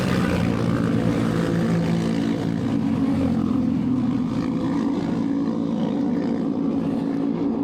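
Yamaha Xmax scooter engine, its failing motor giving a loud, steady low droning rumble with a rough, buzzing texture that holds throughout without a break.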